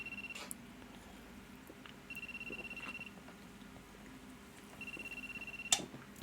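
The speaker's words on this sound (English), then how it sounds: "My phone is ringing." A mobile phone ringing in an anime scene: short electronic ring tones repeat in brief bursts at moderate level over a quiet background hum, with a sharp click near the end.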